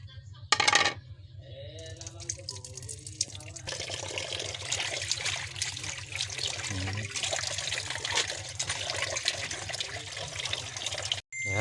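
Water runs and splashes steadily over bullfrogs being washed at home, a continuous broadband trickle with a low hum beneath and a sharp clatter near the start.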